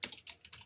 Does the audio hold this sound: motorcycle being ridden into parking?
no